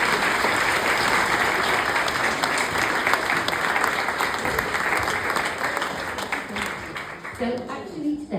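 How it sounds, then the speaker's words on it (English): Crowd at a tenth-anniversary community celebration applauding local businesses and community groups, loud sustained clapping filling the room for about eight seconds before tapering off. "can we give a big applause, please, for our local businesses and community groups?"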